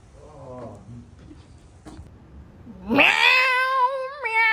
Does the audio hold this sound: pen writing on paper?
no